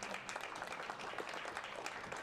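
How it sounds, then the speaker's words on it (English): Audience applause for panelists at a tech panel discussion, an even, fairly soft wash of many hands clapping at moderate distance. "Can we give a round of applause to our panelists,"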